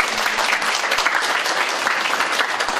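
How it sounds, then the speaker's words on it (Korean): A church congregation's applause, thick continuous clapping from many people, close and loud for the whole stretch, with no pauses. "그런 마음을 박수로 오게 해주세요."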